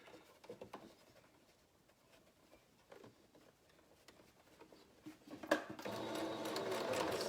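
A sewing machine runs steadily, stitching ribbon onto a fabric face mask, with a backstitch to secure the ribbon. Quiet handling noises come first, then a loud continuous whir builds near the end.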